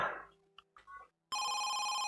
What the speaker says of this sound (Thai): เสียงโทรศัพท์มา